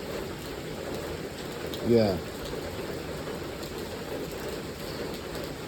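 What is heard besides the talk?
heavy rain falling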